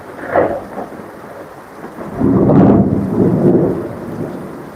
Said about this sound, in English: It's raining heavily here. This is heavy downpour